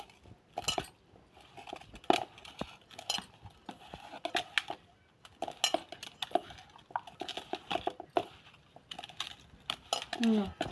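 Ginger and amla pickle ingredients being mixed by hand or spoon in a bowl, with repeated clinks, scrapes and taps in irregular bursts, close and moderately loud; speech is faintly present in the background.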